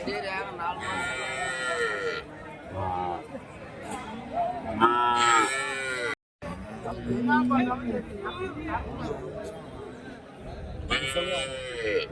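Holstein-Friesian and Jersey dairy cows moo repeatedly at a busy livestock market in Krishnagiri district, with loud overlapping calls and bleating under near, continuous crowd chatter.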